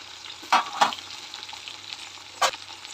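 Onions and green chillies hiss faintly in hot oil for mushroom biryani, with a low steady sizzle broken by three sharp stirring scrapes and clacks of a spoon against the pan.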